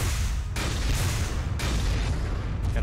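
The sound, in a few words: double cannon firing in Front Mission 4 video game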